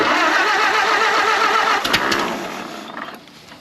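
A 1929 Doodlebug's engine that had sat for years catches and runs with a loud, even chugging that stumbles briefly, sputters with a few sharp pops, then fades as it dies down, with no talking.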